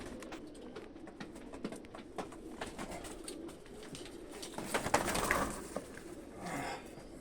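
Pigeons coo softly in a loft housing Sialkoti pigeons, amid scattered rustling and light knocking sounds, with a fuller cooing swell near the end.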